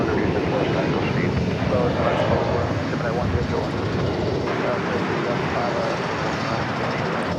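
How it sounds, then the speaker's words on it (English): American Eagle CRJ-700 regional jet arriving at DFW Airport, a broad continuous engine roar and rushing noise at a distance, with a voice talking over it. "First to arrive, or next to arrive, is going to be American Eagle Flight 3192 from Grand Island on a CRJ"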